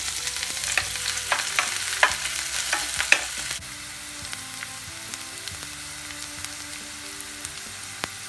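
Chopped onions and curry leaves sizzle in hot oil with popped mustard seeds in a pan, Kerala style, with steady frying hiss and light scraping stirs, loud at first, then a softer, quieter sizzle.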